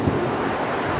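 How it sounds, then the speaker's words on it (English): Steady gusty wind buffets the microphone outdoors, a continuous broadband rush with no pauses, close and fairly loud, on a windy day while someone works on the fuel pump of a 1962 Chevy. "Well, it's another windy day out here."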